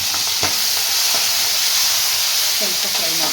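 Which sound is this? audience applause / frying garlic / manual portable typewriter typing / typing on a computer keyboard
frying garlic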